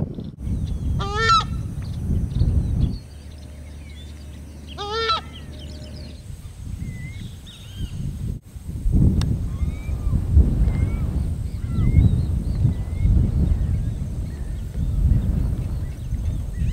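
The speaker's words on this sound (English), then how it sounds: "There's screamers screaming." Southern screamers honking in Argentine wetland, two loud far-carrying honking calls early, then fainter bird calls over steady background noise.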